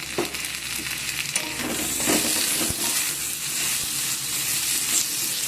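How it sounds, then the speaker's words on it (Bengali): Tomatoes, onion and garlic sizzle and fry in a pan while being stirred, a steady close hiss with occasional scraping and clatter of the spoon, no voices. "টমেটো আর পেঁয়াজ রসুন সব একসাথে আবার আমি নেড়ে নেব"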